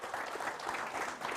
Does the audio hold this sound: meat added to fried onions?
no